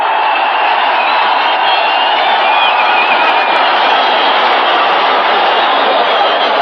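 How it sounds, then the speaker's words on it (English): A capacity crowd at Shea Stadium roars steadily during a 1981 Jets–Colts football game after a sack, a dense, unbroken wall of distant cheering with no pauses. "Chant of defense from this capacity crowd at Shea."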